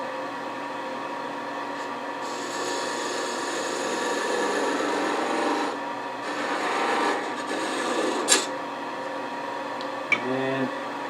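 A tool cuts bubinga wood spinning on a lathe, rounding over its edge with a continuous close scraping rasp over the lathe's hum. Two brief sharper clicks come near the end.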